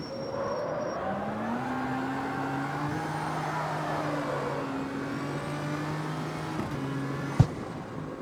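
Turbocharged JDM car in the CarX Street video game, engine droning and rising under load as the turbo boost whooshes up, steady and moderately quiet, ending with a sharp brief pop.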